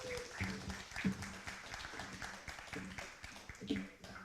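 A friendly audience at a morning talk applauds to welcome a speaker, a soft, steady wash of clapping held at a low, distant level with a few louder claps poking through.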